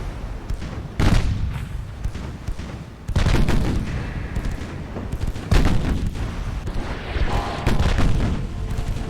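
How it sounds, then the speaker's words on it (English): Six-inch naval guns fire in the naval game Ultimate Admiral: Dreadnoughts, a loud, dense barrage of overlapping booms and blasts that rolls on without pause. "just look at that blizzard of 6-inch guns"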